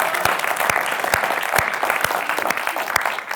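Audience at a live London Q&A event applauds and cheers loudly and steadily, dense clapping throughout with crowd noise, fairly close.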